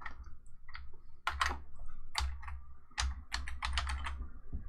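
Computer keyboard keys typed in quick irregular bursts of clicks, with a Control F search being entered while configuring an MKS Monster8 3D printer board; close and fairly loud, with no talking.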